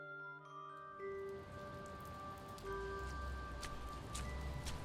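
Rain falls through the night as an audio drama effect, a steady patter of drops hissing under lingering tonal chimes that fade out as the downpour thickens and grows louder.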